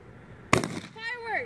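A single sharp firework pop on New Year's Eve, from sparklers and Roman candles being set off, is followed by a rising whistle. The sound is fairly faint, and people talk around it.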